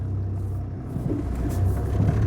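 An Icelandic-spec Toyota Land Cruiser Troop Carrier with massive wheels rolls along a narrow mid-Wales lane in first gear with no throttle, a low, steady engine rumble close by that swells slightly toward the end.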